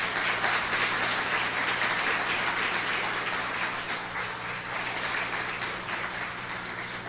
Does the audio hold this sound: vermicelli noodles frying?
no